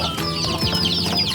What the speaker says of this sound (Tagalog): ito nga pala yung mga sisiw na ating pinapalaki. So kasama pa nila yung kanilang inahin